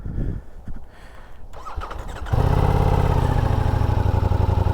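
Starter cranking gives way to a 2026 Ducati Diavel V4 engine firing up, then a loud, close, throbbing idle through the stock exhaust that holds steady.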